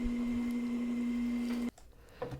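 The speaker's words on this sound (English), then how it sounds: "now I'm just popping a few mounting holes into the board before I install it." A drill bores mounting holes into a board meant for under a sink, a steady close motor whine lasting under two seconds before cutting off abruptly, followed by faint handling noise.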